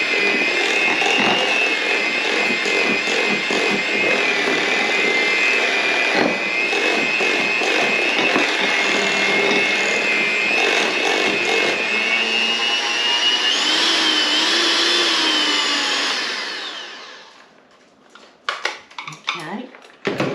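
Electric hand mixer with beaters whipping possum pie filling in a bowl: a loud, steady whirring drone with faint clattering against the bowl, which stops abruptly near the end, leaving a few light knocks.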